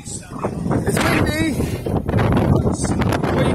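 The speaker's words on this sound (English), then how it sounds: "It's windy." Gusty wind buffets the microphone with a constant low roar at Blackpool Pleasure Beach, while voices talk underneath.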